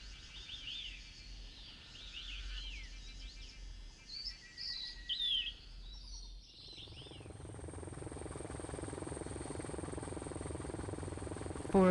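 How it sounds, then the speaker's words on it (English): Birds chirp and sing in a forest on Alishan (Ali Mountain), Taiwan, for several seconds before a loud, steady mechanical rumble takes over. "listening to the birds singing while observing the natural rhythm of"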